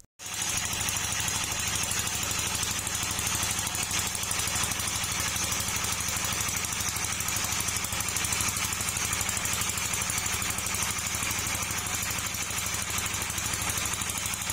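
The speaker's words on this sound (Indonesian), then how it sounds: "pencetakan bata merah kini menggunakan mesin press" A machine press moulding red bricks runs nonstop, a dense, loud, rattling mechanical din with a fast steady vibration and no pauses or voices.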